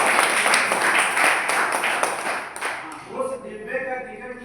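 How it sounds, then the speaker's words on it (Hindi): A seminar audience bursts into loud, dense clapping that holds steady for a few seconds, then thins out and gives way to a voice speaking. "उस ट्रेन को दिखाने वाले परम आदरणीय हमारे गुरुदेव मौर्य जी के लिए एक बार जोरदार ताली"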